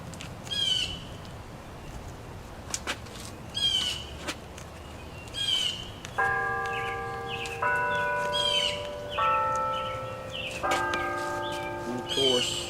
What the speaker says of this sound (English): we have the church bells, and the farm tractors, and the blue jays, all sorts of summer sounds